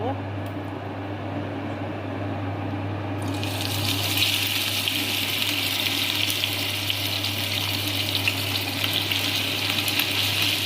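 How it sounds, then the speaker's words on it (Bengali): Fish dropped into hot oil in a pan, the sizzle jumping sharply to a loud, dense, continuous crackle after a few seconds of quieter kitchen background. "তো এখানে আমি প্যানে তেল দিয়ে দিয়েছি এখন আমি মাছটা দিয়ে দিব"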